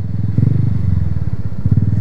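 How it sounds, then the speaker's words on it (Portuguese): A Honda CG 125 motorcycle engine runs close by at a high idle, a loud, rapid low-pitched chugging pulse with slight surges in speed. No voices are heard. "a moto tá acelerada, cara"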